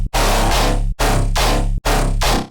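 Heavy dubstep main bass layered with sub bass, designed in the Serum synth with no clipper, plays as three long distorted sustained notes separated by short gaps, with a deep low end and a dense, gritty upper range.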